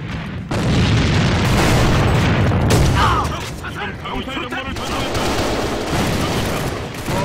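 Grenades explode in a clan-match shooter game: a loud, rumbling burst of booms runs for a few seconds, then falls to a lower, rattling din of distant blasts and gunfire under some talk.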